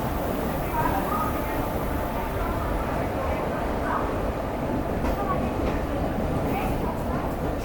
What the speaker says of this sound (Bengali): আমার ট্রেন এসছে প্রায় 9 মিনিট ডিলে